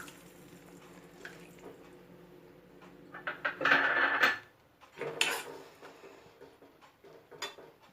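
Tamarind water poured into a pot of pirandai rasam, a short splashing pour of liquid in a quiet kitchen followed by a few smaller splashes and clinks.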